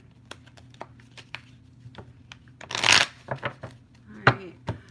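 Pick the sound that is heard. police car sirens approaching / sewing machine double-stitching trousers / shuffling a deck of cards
shuffling a deck of cards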